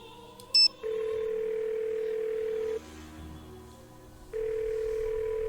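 A telephone rings in the Nancy Drew: Ghost of Thornton Hall video game: a brief beep, then two long steady electronic tones separated by a quiet pause, clear and alone.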